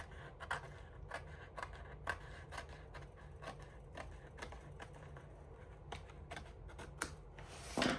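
Paper trimmed with scissors from a 6x6 art journal spread, a quiet run of short, crisp snips in an irregular rhythm, close up with no talking.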